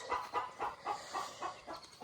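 Chickens on a small farm plot in Ghana cluck in a steady run of short repeated calls, several birds close by with a faint background hiss and no talking.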